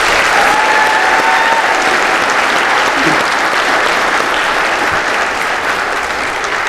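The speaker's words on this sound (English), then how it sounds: "please give these special guests of 1212 a round of applause" Loud, sustained audience applause at a graduation ceremony honoring special guests, a dense wash of clapping from a large crowd that holds steady and fades slightly toward the end.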